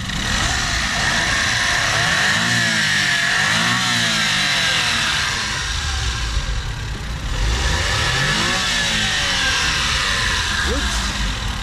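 A 4x4 mini van's turbocharged engine revs loudly and close up, its pitch sweeping up and down several times over a constant roar.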